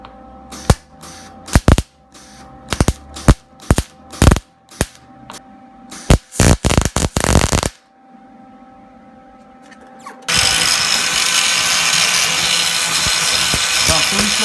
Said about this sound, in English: I'm going to try to fix this with the welder, and I'm going to try to fill this all in.